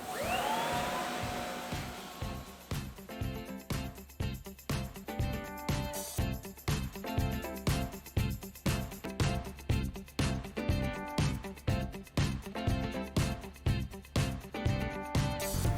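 Tennant CT30 walk-behind floor scrubber with brush fitted and cleaning solution in the tank, running with a steady loud motor drone and rapid rhythmic brush pulsing throughout, with no talking.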